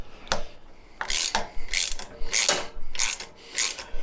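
A ratchet tightening hardware during a guard installation, giving about six short bursts of rapid clicking close by, separated by brief pauses, with no talking.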